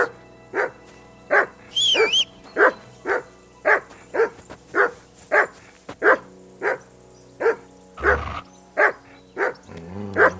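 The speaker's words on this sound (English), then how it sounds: "Call that dog to heel!" A dog in Kingdom Come Deliverance 2 barks repeatedly in a steady rhythm, about fifteen loud sharp barks close by, with a brief whine and a thud near the end.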